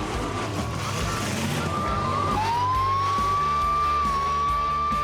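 A long steady siren tone rises and holds over a loud, dense rumble of engines and crowd noise, signaling a stop in a demolition derby car-crash contest in Wisconsin.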